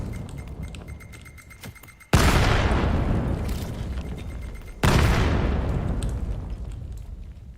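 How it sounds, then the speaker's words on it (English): Two loud grenade blasts erupt in the VR shooter VAIL, each a sudden close boom that rolls off into a long fading rumble, spaced a few seconds apart. "Nice little nade over the top."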